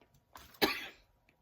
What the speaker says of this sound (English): I haven't coughed like this all day today.